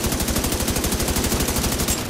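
Rapid automatic gunfire in the video game The Division 2: a loud, continuous burst of evenly spaced shots lasting about two seconds, with no talking.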